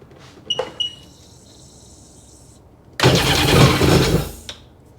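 A 2002 Sea-Doo GTX DI personal watercraft engine, under repair with an air leak, sits near silent with faint tones, then bursts into a loud, rough roar for about a second and a half before cutting out.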